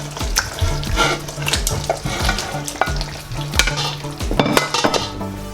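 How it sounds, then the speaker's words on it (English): Mackerel chunks go into a steaming Ugandan fish stew sauce, with loud bubbling and sizzling, spoon scraping and clinks against the pot in an uneven rhythm. "I'm just going to add the fish now"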